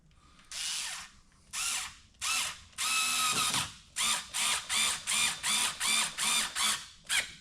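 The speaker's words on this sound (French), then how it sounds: "Mais je reste encore une fois avec le tournevis électrique." Electric screwdriver driving screws into hinges on an expedition truck, a series of short whirring bursts, a longer run and then a quick even rhythm of about ten brief pulses, close and loud.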